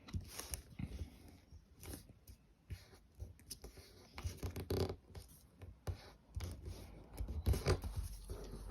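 Origami paper is folded by hand close by, with crisp crinkles, rubbing and scratchy creasing sounds in irregular bursts, fairly faint and with no voice over them.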